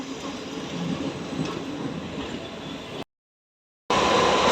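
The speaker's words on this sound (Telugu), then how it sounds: "సిక్ హైదరాబాద్ నుంచి అనకాపల్లి వెళ్ళే స్పెషల్ ట్రైన్ ఇది" A special passenger train from Secunderabad to Anakapalli rumbles past at a station with a steady, loud roll of wheels and carriages. The sound cuts out briefly, then returns louder.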